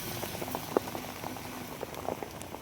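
Rain falls steadily on an outdoor surface, a dense soft patter with scattered sharper drops, moderately loud and continuous with no voices over it.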